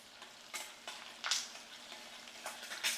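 Curry leaves crackle and sizzle in hot oil for a spiced tempering, a steady frying hiss broken by several sharp bursts of spitting, close and fairly quiet with no voices.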